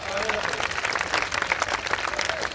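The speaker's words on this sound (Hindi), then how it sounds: "तो एक बार जोरदार तालियां बजाकर बताइए कि आप मुझे सुन रहे हैं।" Loud, dense clapping from the audience at a Hindi comedy poetry gathering (hasya kavi sammelan), a continuous crowd roar of hands close and full throughout, with faint voices mixed in underneath.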